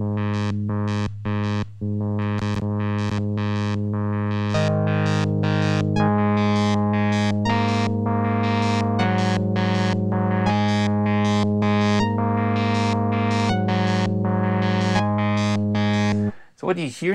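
A MemoryMoog synth sample played through a UVI workstation filter, stepping through a sequenced pattern of sustained harmonic notes that shift pitch every second or so, loud and steady with no talking.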